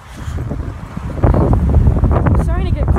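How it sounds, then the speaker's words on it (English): Strong outdoor wind buffets the microphone in loud, rumbling gusts that swell partway through, with a brief higher whistling tone near the end. "Except for all this wind. I think you guys can hear it."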